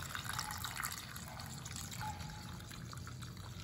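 A Magicat pet water fountain for cats runs with a steady, close trickle and burble of water over a continuous low pump hum, and no voices.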